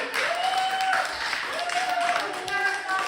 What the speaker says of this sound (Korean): 다시 박수 주세요.